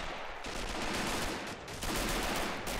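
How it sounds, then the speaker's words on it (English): Dense, continuous machine-gun fire at Pointe du Hoc in a realism-modded war game, a loud sustained roar of overlapping shots and explosions with brief dips in intensity and no voices. "that MG is starting to rip up now as well"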